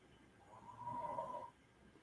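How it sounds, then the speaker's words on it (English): A man snores loudly, compared to a grizzly bear, with one drawn-out, rumbling, raspy breath swelling and fading at close range. "He is snoring like a motherfucking grizzly bear."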